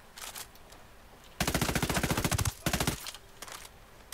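Automatic gunfire in Ghost Recon Wildlands, loud rapid bursts separated by short pauses, with fainter distant shots around them.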